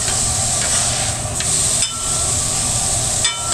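Steak searing on a food truck grill, a steady broadband sizzle held at close range throughout, with brief scraping or stirring accents and no talk.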